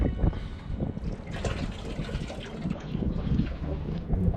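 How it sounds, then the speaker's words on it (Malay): Water is tipped out of a container on a river raft while fishing, a splashing, trickling pour with wind noise over the microphone throughout. "ni air dia saya akan buang sikit"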